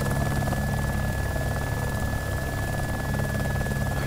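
Helicopter in the DayZ video game, a steady, loud rotor and engine drone with a constant whine, continuous throughout with no talk.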